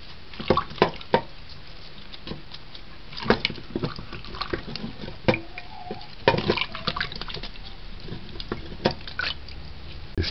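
Sweet basil leaves being washed by hand in water, with irregular drips, splashes and wet squishing sounds close by, some sharp clicks and knocks in between.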